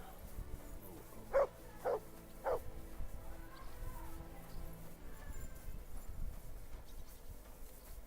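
Three short dog barks in Kingdom Come: Deliverance II, evenly spaced and fairly close, standing out over a low murmur of game ambience and footsteps.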